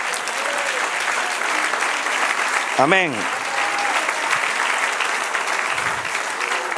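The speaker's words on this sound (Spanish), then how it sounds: "Dale otro aplauso, Señor" Congregation applause in a church sermon, a steady broadband wash of clapping that fills the whole stretch while a voice briefly speaks over it near the middle.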